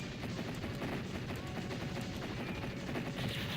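Continuous rapid gunfire from a shooting minigame in a Capcom beat 'em up, a dense, steady clatter of shots that holds at the same loudness throughout with no pauses.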